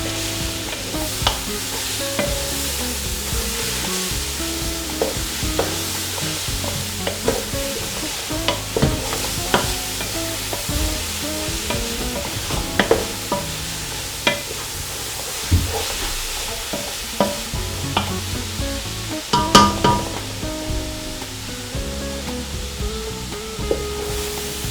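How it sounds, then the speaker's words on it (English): Grated carrot halwa with coconut is stirred in a hot pan as the sugar caramelizes, giving a constant close sizzle broken by frequent scraping and knocking strokes of the spoon, with no voices. "So I'll pop the coconut in, and I'll give that a nice mix for about a minute or so"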